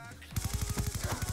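A rapid burst of automatic gunfire from Black Ops 2 starts abruptly, about a dozen close, punchy shots in quick even rhythm.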